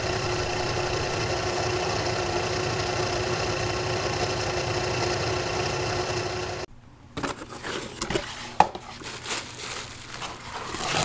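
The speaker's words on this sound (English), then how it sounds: "As I zoom here past the alternator with a crooked pulley and a bad bearing" A Fox Body Mustang engine runs with a crooked alternator pulley and a bad alternator bearing. It gives a steady whirring, slightly rattling drone that cuts off abruptly partway through, followed by scattered handling clicks and knocks.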